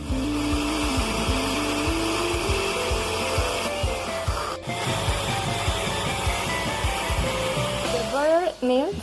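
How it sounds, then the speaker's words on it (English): An electric blender grinds a pack of Maria biscuits in a kitchen, a steady close whirring and grinding that shifts in pitch, with brief speech near the end. "Blend the pack of Maria biscuits in the blender"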